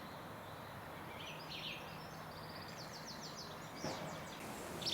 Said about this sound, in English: Lovely song thrush behind me.